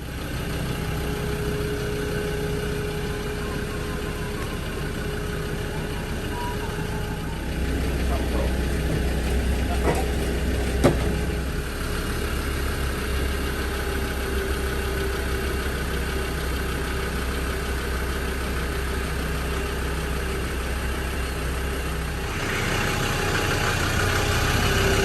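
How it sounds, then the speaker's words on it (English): A Land Rover Freelander 1 diesel engine idles steadily to warm up before its MOT, a constant low rumble and hum with a brief rise in level partway through, and no talk over it. "So we're going to let it idle now, just to get up to temperature"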